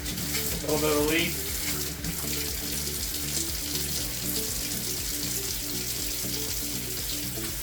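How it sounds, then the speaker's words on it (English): Water runs steadily from a household faucet beside a newly fitted whole-house water filter, a close, continuous splashing rush with low plumbing hum and no talk. "Okay, this faucet's going."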